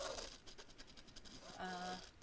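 A sewing machine stitches in a quick, steady rhythmic patter, fairly quiet and close by.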